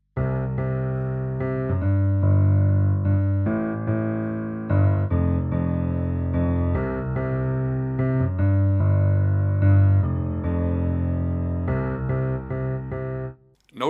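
Piano playing a steady left-hand bass pattern from the intro of a song, sustained low chords moving in a regular rhythm, clear and close with no talking.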